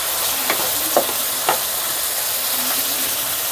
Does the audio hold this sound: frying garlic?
yes